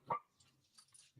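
A dog barks once, loud and close, then a few faint yips and whimpers follow before another bark starts at the end; no one talks over it.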